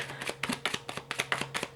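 Tarot cards are shuffled quickly and quietly in a brief burst of soft papery flicks, heard close, with a faint steady hum underneath.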